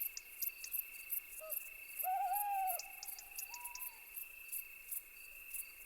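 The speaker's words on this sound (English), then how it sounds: "The eagle owl is Europe's biggest nocturnal raptor." An eagle owl hoots at night, a few low, drawn-out calls rising and falling over a steady chorus of chirping crickets and insects, distant and fairly faint, with no voices.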